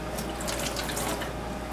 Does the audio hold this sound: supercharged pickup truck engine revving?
no